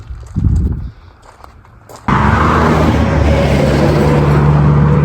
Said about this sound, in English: There's going to be a lot of cars zooming past.